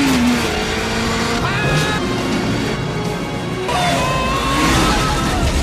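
A fire truck engine revs and roars in the 1997 action film Con Air, loud and close with shifting pitch, layered under crashing action sound effects.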